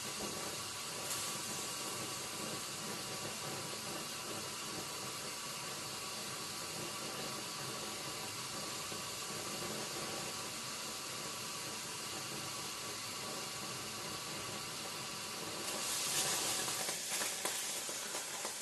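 Steady hissing, rushing noise of water boiling and bubbling in a kettle, continuous and fairly loud, swelling slightly near the end.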